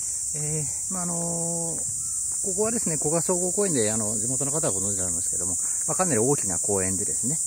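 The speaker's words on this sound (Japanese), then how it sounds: "ちょっと夏なんでセミの声を聞きながらという感じになりますよね。" Summer cicadas buzz as a continuous high, hissing drone across Koga General Park, a large park, staying steady underneath someone talking throughout.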